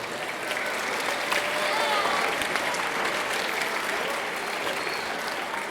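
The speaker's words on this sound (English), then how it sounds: "how about a round of applause for them?" A crowd claps steadily for several seconds at a middle school academic awards ceremony, a dense, even wash of applause filling the room.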